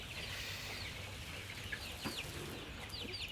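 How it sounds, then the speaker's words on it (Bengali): Farm chickens of about 300 grams each cluck softly among many feed pots, in a shed during steady rain. Faint overlapping clucks and chirps sit over a constant background hiss, with no voices. "এই মুরগিগুলা সারা সারা রাত এই খাবারগুলা খাবে।"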